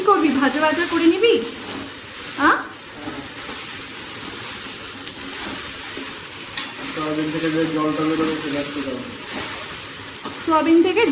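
Soybean chunks fry in hot oil seasoned with black cumin seeds, a steady close sizzle with occasional stirring clatter, while people talk over it.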